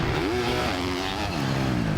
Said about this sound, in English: There's a nice battle between Natsky, Schlosser, and Quinn Amiot here, the number 14 rider